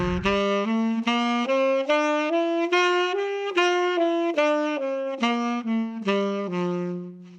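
Saxophone phrase with back-tonguing that accents the offbeats, a steady string of detached notes rising then falling, close and clear, with no voices.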